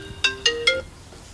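A telephone gives three quick, bright electronic ringtone notes in rising sequence, each one sharp and close, with a faint tail after the last note and no speech.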